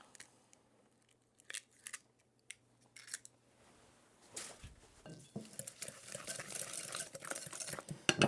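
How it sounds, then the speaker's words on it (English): Eggs cracked against a bowl and dropped into sugared cake batter for a cranberry ricotta cake, heard as a few sharp close taps followed by busier wet stirring and clinking toward the end, with no talking. "And then I'm going to crack in a couple of eggs."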